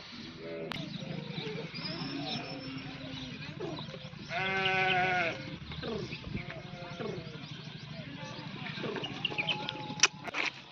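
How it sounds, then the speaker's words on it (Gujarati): A flock of sheep and goats bleats at a village watering trough, several overlapping cries of varying pitch, close and distinct, with one louder burst midway and people talking nearby. "હા તો અહીં જોઈ લો ઘેટા બકર આયા છે।"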